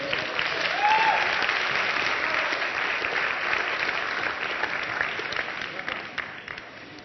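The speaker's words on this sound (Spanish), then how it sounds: "El aplauso para ellos, por favor" Audience at the Tijuana Innovadora 2014 conference breaking into sustained applause, a dense wash of clapping from a large crowd that tapers slightly at the end, with a voice speaking over it.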